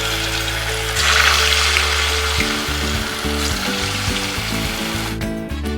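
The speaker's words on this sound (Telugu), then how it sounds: "ఆయిల్ హీట్ ఎక్కినాక దాంట్లోకి వేసుకోవాలండి ఒక్కొక్కటి కొంచెం మీడియం ఫ్లేమ్లో పెట్టుకోవాలి" Potato pieces deep-frying in hot oil for Manchurian, a loud steady bubbling sizzle with a low hum and a brief rise in crackle near the start.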